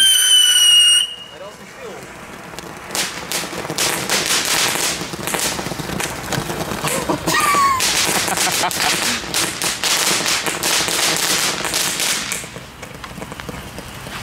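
Consumer fireworks from a supermarket pack go off outdoors in a long burst of rapid crackling and popping, with whistling squeals and sharp bangs, loud and dense for about ten seconds before fading to scattered crackles.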